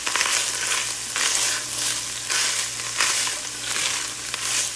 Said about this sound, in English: I'm going to add in some chopped up onion and some garlic. And I'm just gonna let this saute together